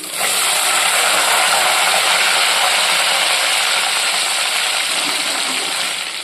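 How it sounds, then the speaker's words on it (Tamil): About 200 grams of whole, uncut small onions hit hot oil for a wedding-style okra kara kuzhambu, setting off a loud, steady, close sizzle that holds evenly for several seconds with no talking. "இப்போ இதில் ஒரு இரநூறு கிராம் அளவுக்கு சின்ன வெங்காயம் கட் பண்ணாமல் சேர்த்துக்கலாம்"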